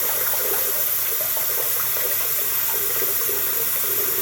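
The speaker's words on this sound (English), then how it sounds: "I'm gonna switch the water in my sink to cold" Tap water running steadily into a bathroom sink, a continuous close hiss and splash with no pauses or voices.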